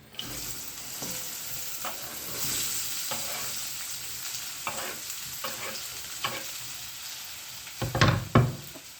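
Onions frying in oil in a pan, a low steady sizzle broken by scattered stirring scrapes and taps, ending in a few louder clatters near the end, close and without talk.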